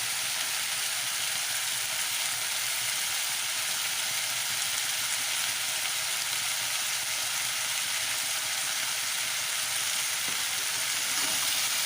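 Green chillies sizzle in hot oil in a Bengali drumstick curry, a continuous bright, hissing crackle that stays loud and even throughout with no voices.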